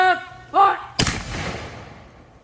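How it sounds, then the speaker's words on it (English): A matchlock musket fires once after shouted drill commands, a sudden loud close blast followed by a long rumbling echo that fades over about a second and a half. "I'm about to fire. It does tend to be fairly loud."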